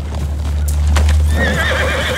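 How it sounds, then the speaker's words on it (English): Horses in the Ghost of Tsushima game whinny loudly over a steady low rumble, with a sharp neigh rising in the second half as the herd is readied amid a Mongol attack. "Get to the horses."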